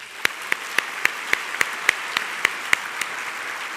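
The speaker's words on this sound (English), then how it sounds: "Please join me in a round of applause for the accomplishments in external grants and contracts" Sparse, scattered clapping at a CSULB university convocation in 2014, about a dozen distinct individual claps in an even rhythm, fairly faint in a large hall.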